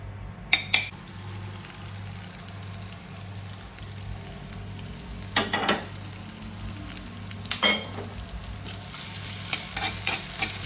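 Coconut pieces frying in a little ghee in a pan on the stove, a low steady sizzle with a few sharp clinks and scrapes of a utensil against the pan, close and without speech.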